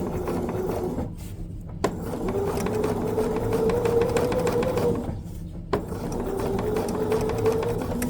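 A sewing machine stitching fusible raw edge applique on a quilt, two steady runs of rapid close-up stitching that each stop briefly with a click as the needle pauses.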